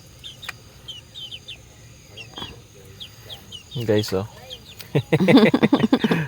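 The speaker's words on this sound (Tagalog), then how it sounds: "Merong mga manok." Hens cluck in short bursts in the background while people talk nearby, with a louder burst of chatter toward the end.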